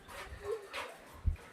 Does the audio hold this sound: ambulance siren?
no